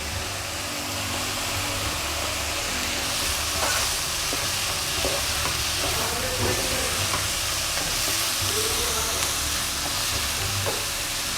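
Chicken vegetable fried rice seasoned with black pepper, white pepper and salt is stir-fried in a pan, giving a steady loud sizzle with scraping stirs throughout.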